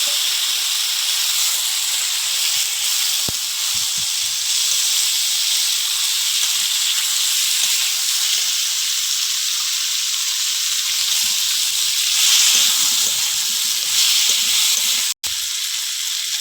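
Elephant foot yam goes into a pan of frying onion, crushed garlic and green chilli, making a loud, close, continuous sizzle and steamy hiss with a brief click near the end and no talking.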